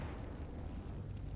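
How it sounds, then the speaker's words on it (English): A flashbang grenade going off in the tactical game Xenonauts 2, heard as a dense low rumbling burst that holds for over a second, fairly quiet and without speech. "I'll flashbang this guy"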